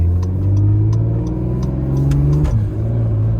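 Acura NSX engine held at a raised idle in Sport Plus mode, a steady loud close mechanical hum with a slight dip in pitch near the end, no talking.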